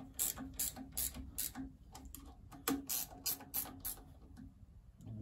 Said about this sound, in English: So start to tighten up your bolts to your supercharger.